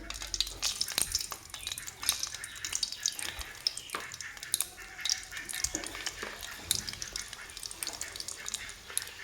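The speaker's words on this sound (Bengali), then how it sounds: "এখন আমি এটাকে ফ্রাই করে নেব তেলটা দিয়ে দিয়েছি" Flour cakes frying in lightly heated oil for a sweet Bengali snack, with a steady crackling sizzle and scattered pops and stirring clinks at close range, no voices.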